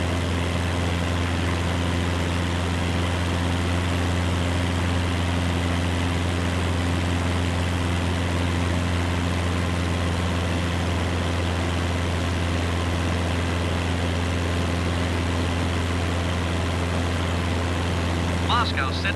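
A Cessna 172 Skyhawk engine idles in Microsoft Flight Simulator 2020, a steady, loud, low propeller drone with constant hum that never changes, with radio voices talking over it.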